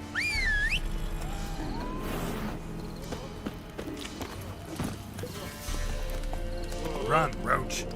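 Roach, a horse in the video game The Witcher 3, galloping with rhythmic hoof clip-clops, a whinny and some whistle-like tones, under game dialogue and music.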